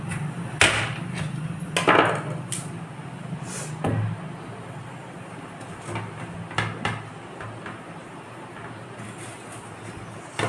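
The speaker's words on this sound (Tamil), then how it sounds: "இந்த வாழைக்காய் சீவுறதில் வச்சு நம்ம சீவிடுவோம்." A white pumpkin is sliced on a plantain slicer in a home kitchen, giving a string of sharp scraping swipes and thuds at an irregular rhythm, fairly close and clear with no talking.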